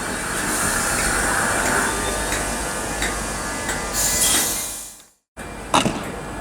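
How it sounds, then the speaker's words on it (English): LNER trains, including an Azuma-style 225 set, pulling out of Grantham station on the East Coast Main Line: a steady broad rumble of rolling stock and rail noise that swells, cuts out briefly, then returns with a sharper clatter. "departing now is the 1519 LNER service to Newark Northgate, as well as the 1518 service for LNER from Leeds to London King's Cross"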